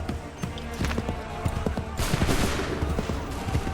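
A musket volley fired by soldiers in Assassin's Creed III, with a dense burst of overlapping loud gunshots cracking out together, followed by scattered sharp reports and commotion, heard up close.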